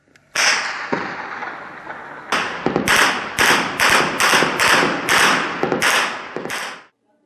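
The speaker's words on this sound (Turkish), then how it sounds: "Günlerdir süren sokağa çıkma yasağının ardından çatışma sesleri durmuyor." Gunfire from armed street clashes under curfew in Cizre, Şırnak: a rapid run of about ten sharp, loud cracking shots, first a short burst and then a steady series of closely spaced reports.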